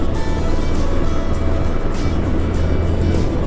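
A Yamaha FZX Retro 150cc motorcycle riding along a road, a loud steady engine drone mixed with heavy wind rush, continuous and close with no talking.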